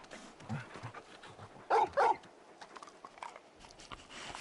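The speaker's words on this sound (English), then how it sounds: "You're just a big puppy, aren't you?" A large dog in the Final Fantasy XVI video game gives two loud, close barks in quick succession amid quieter game ambience and soft rustling.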